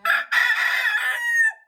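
A black leghorn rooster crows close and loud: a short opening note, a brief break, then a long sustained call that fades at the end.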